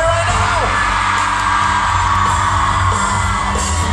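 A large arena concert crowd yells, whoops and cheers continuously at full volume, a dense roaring wall of noise with no break.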